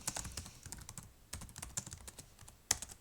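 Fast, uneven typing on a computer keyboard, close-up, a rapid patter of key clicks with a sharper tap near the end, no voices.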